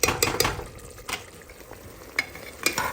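A thick masala simmering on high flame in an open pan, sputtering and bubbling close up, broken by several sharp stirring scrapes and clinks of a spoon against the pan.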